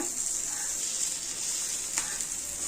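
Sardine fillets fry in a pan, giving a steady bright sizzle that goes on throughout with faint crackles and one small clink.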